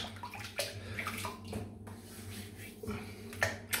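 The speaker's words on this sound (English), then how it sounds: "Okay, wet the whiskers." Quiet water splashing and dribbling in a bowl or sink as whiskers are wetted before a wet shave with soap, brush and razor, soft intermittent sloshes and drips at close range.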